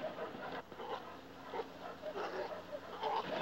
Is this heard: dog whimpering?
yes